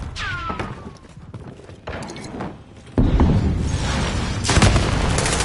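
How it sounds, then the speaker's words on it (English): Gunfire and heavy booms in a Call of Duty Warzone match on the Caldera map, with a sharp loud burst midway and sustained dense shooting and impacts through the second half, no talk. "Someone trying to shoot at me."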